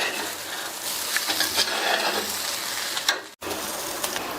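Raw banana pepper curry being stirred in a pan, a steady soft sizzle with scraping and rustling of the spoon through the mixture, continuous and close, with a brief knock near the end.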